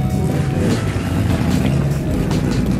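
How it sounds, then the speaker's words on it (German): Loud, continuous roar of formula racing car engines with a dense low rumble and no gaps, as the cars stream past close by at a classic motoring event at Schloss Dyck. "Oh, da kommen schon die Formelfahrzeuge."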